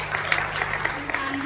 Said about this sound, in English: So give them a big clap